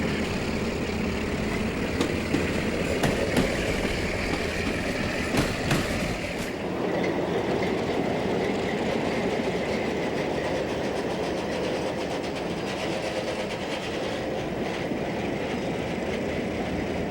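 A B&O-era freight train rolls steadily along the track, a continuous rumble of railcars with rhythmic wheel clatter and occasional sharper clanks, heard close and alone without voices.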